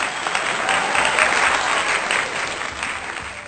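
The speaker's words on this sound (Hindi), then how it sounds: "जोरदार तालियां काव्य जगत के चमकते सूर्य कुंवर बेचैन जी के।" Steady, dense clapping from an audience at a Hindi poetry recital fills the whole stretch, with loud applause and no voices.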